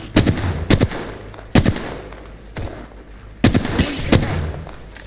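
Charge rifle shots in Apex Legends: a series of loud, sharp blasts spaced irregularly, some in quick pairs, with brief ringing tails between them.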